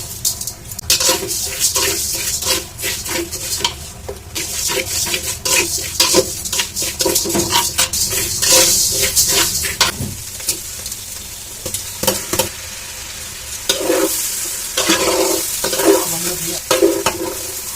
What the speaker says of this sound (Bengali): আমরা 1 কাপ সোনা মুগ ডাল ভেজে নেব।